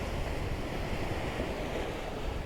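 Sea waves washing in on the beach at Minehead at night, a dense, steady roar of surf mixed with wind buffeting the microphone, constant and fairly loud with no speech.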